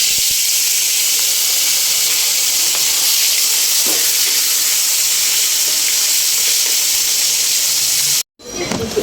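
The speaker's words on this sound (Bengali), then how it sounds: "তো এখানে আমি তেল দিয়ে দিছি, তেল গরম হয়ে গেছে। আমি এখন মাছগুলো দিয়ে দেব।" Fish sizzling in hot oil in a home kitchen, a loud, continuous bright hiss and crackle that holds steady throughout, briefly cut off near the end before resuming.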